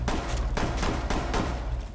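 Gunfire punches through walls in Rainbow 6 Siege: four loud, sharp shots at uneven intervals over two seconds. A dense roar of game noise runs between them, and no voices are heard.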